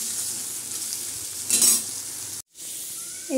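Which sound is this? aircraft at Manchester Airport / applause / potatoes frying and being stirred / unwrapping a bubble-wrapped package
potatoes frying and being stirred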